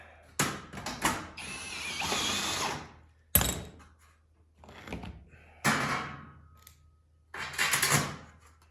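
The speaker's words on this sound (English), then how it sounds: "those are amazingly good drills" A cordless power drill runs in repeated short bursts, each a loud whirring spin lasting about a second, separated by brief pauses; nearby and with no talking.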